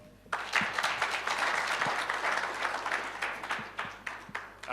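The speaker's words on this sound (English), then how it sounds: "Another big hand of applause." An audience at a board inauguration event gives a sustained round of applause, with dense clapping that starts abruptly and carries on steadily throughout.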